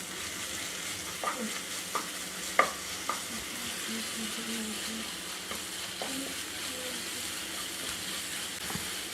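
Onions with ginger-garlic paste sauté in a pan for Kerala-style beef roast, a soft steady sizzle with a few sharp clicks of a spoon stirring against the pan, quiet and close.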